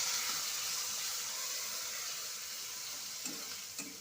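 Spices hitting hot oil with bay leaves and green chilli give a steady, loud sizzle close by, with a faint stirring scrape near the end and no voices.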